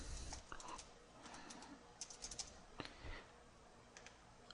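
Quiet, irregular clicking of keys being typed, with faint bird cooing in the background.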